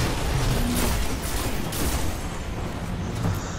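Dense, continuous gunfire and explosions from the video game Destiny, a steady loud wash of shots throughout.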